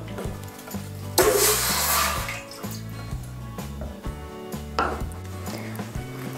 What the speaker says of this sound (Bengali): এর মধ্যে আমি দিয়ে দেব 1 কাপ জল